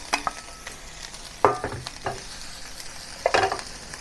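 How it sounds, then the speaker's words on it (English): Shrimp heads and shells sizzling in a pan for broth, with sharp bursts of crackle and scraping stirs at intervals over a low sizzle, no talking. "put all the shrimp head and the shell into it"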